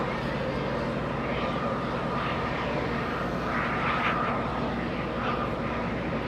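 A Qantas airliner's engines roar steadily and loudly at Los Angeles International Airport, a continuous close, broad rumble.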